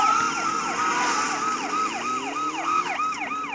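A repeating electronic warning alarm from the TARDIS in the Doctor Who movie, a rising and falling warble cycling steadily about three times a second, loud and continuous with no talk over it.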